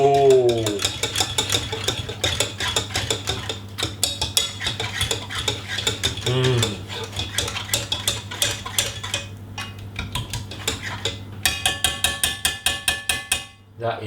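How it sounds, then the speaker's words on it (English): A spoon stirs superfoods into pumpkin pie filling in a bowl, giving steady rapid clinks and scrapes with a low hum behind and brief louder knocks near the end. "Stir that in."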